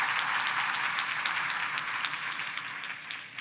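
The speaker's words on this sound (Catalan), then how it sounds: "Un aplaudiment." An audience at an education conference applauds, a steady wash of many hands clapping at moderate distance that tapers slightly toward the end.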